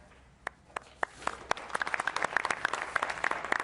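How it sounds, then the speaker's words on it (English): Audience at a televised question-and-answer session with Warren Buffett and Bill Gates claps, beginning with a few scattered claps and quickly building into dense, steady applause. "Oh, look, you get an applause."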